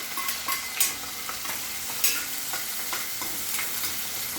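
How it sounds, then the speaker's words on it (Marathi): Onions and green chillies frying and being stirred in a pan, a steady close sizzle broken by a few sharper scraping stirs, with no one talking. "थोडे कांदे का लालसर होऊ देऊया"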